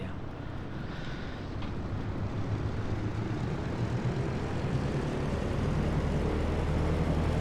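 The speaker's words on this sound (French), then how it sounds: "je vous emmène et on est parti avec le DC3" A DC-3 propeller airliner's engines drone steadily from inside the cabin, a broad continuous rumble that slowly swells in loudness with no pauses.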